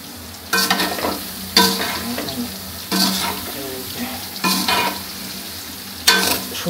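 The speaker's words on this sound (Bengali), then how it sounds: "সয়াবিনগুলো সেম সেই প্রসেসে ভাজতে হবে" Soybean chunks fry in a hot pan, crackling steadily, with a few louder bursts of stirring scraping against the pan at roughly one-second intervals, close up and with no talking.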